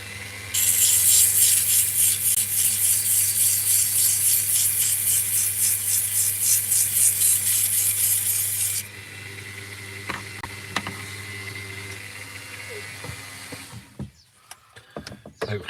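Sanding wood by hand with rapid, rhythmic rubbing strokes, close and steady for about eight seconds, then softer scraping and handling noises follow.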